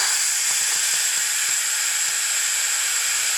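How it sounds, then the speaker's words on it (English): An Instant Pot Duo Evo Plus 8-quart pressure cooker releases steam through its vent: a steady, loud, broad hiss that runs the whole time, with a few faint low knocks beneath it. "that's going to like disperse the steam a little more, so it's not like a big shot of steam coming out"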